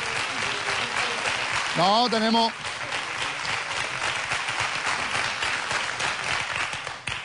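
Studio audience applause on a Spanish television comedy show, a steady broad wash of clapping that runs throughout under a host's voice, with a brief musical sting partway through.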